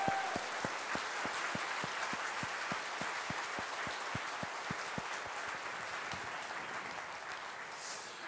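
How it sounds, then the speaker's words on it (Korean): A congregation at a Korean church service claps in unison, a steady, evenly spaced beat of sharp group claps about three per second, moderately loud and sustained over a soft background wash. "좋으신 하나님께 영광 박수 올리겠습니다."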